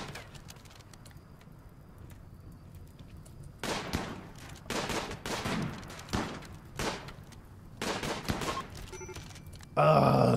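Sniper rifle and other gunfire in the video game RimWorld crack out in several separate bursts of sharp shots over a quiet background, loud and close, with a brief game sound at the end.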